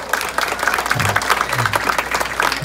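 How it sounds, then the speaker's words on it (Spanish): Loud applause from the guests at a quinceañera court presentation, steady clapping that carries on without a break. "aplauso fuerte para la presentación de esta noche."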